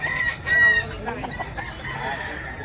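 A rooster crows loudly nearby while hens cluck steadily in the background.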